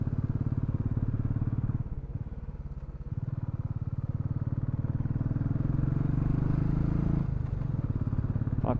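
A motorcycle climbing a hill road on the way to a hilltop Murugan temple, its engine droning steadily and close throughout, pulling strongly without labouring, with a slight rise in pitch near the end.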